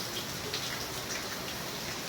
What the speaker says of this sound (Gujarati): વરસાદ ચાલુ ગયો અને અટાણે જો ફૂલમ ફૂલ ચાલુ જ છે